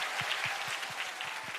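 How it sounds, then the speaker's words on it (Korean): A television studio audience claps for a K-pop boy band's performance, a brief dense patter of many hands with soft low thumps underneath, somewhat distant and even. "박수 청해주세요."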